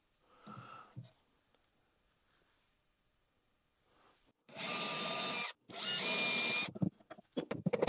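A power drill boring small pilot holes in a workshop charging-station build gives two loud sustained whirring bursts, each about a second long, after a quiet stretch with a brief breathy sound at the start.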